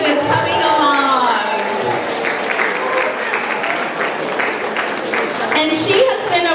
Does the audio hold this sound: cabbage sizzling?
no